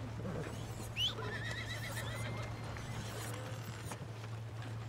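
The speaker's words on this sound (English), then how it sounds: "where's my horse?" A horse in Red Dead Redemption 2 gives a short, high whinny near the start, with faint hoof clip-clops and a low steady hum under quiet game ambience.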